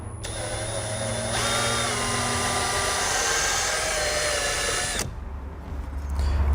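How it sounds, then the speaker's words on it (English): A power drill with a step bit whines at high speed, boring a 3/4-inch hole while installing running boards on a 2018 Jeep Wrangler JL, steady and loud for about five seconds, then cuts off, leaving a rumbling motor wind-down. "come back with a step bit that I have marked at 3/4 and drill it out"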